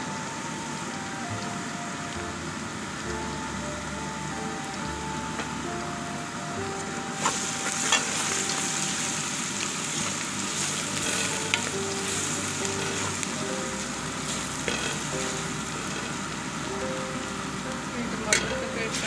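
Garlic ginger paste sizzling and frying in a pan of fried onions for a beef and green pea curry, a steady loud crackle with occasional stirring clatters and no talking.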